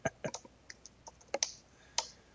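Irregular keystrokes on a computer keyboard, a handful of crisp clicks scattered unevenly with short pauses between, close and clear against a quiet background.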